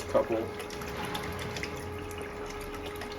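River water flows steadily through a gold box as concentrates from the Wild Ammonoosuc River in New Hampshire are cleaned out. A continuous, close wash of water runs throughout with a few soft splashes near the start.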